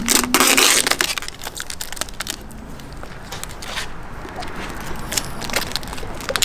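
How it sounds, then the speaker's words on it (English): Knifeless tape filament pulled through vinyl wrap on a car in a backyard garage, giving a sharp ripping burst at the start, then softer scratchy crackles and faint handling noises. "knifeless tape in action"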